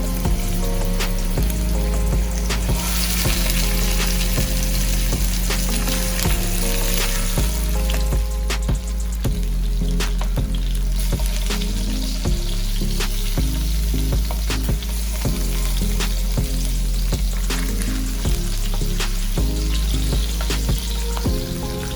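Pompano fish sizzle loudly in three tablespoons of hot oil, a dense, constant frying hiss that runs unbroken and close for the whole stretch, with music playing underneath.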